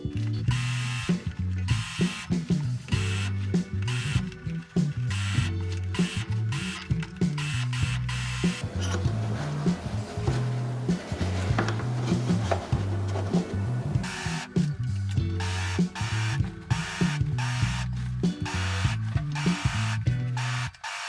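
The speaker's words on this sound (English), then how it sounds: "I will finish each side of the seam allowance with an overlock stitch" An overlock machine stitches along a seam allowance on a pinafore dress, giving a loud, close, continuous mechanical whir and clatter with rhythmic pulses and a few brief pauses.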